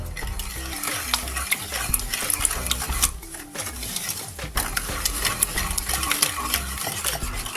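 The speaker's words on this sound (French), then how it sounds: "Bien remuer à l'aide d'un fouet" A whisk beats eggs, sugar and lemon juice in a bowl for Kignon biscuits, making a brisk, continuous clatter and scrape of rapid strokes, close and fairly loud, with a short lull in the middle.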